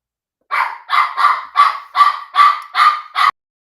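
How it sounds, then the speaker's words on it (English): Dogs barking in a backyard, about eight loud, close barks in a steady rhythm over roughly three seconds, then silence. "these dogs are going crazy."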